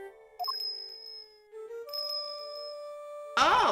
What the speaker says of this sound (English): his appearance was always announced by the sound of bells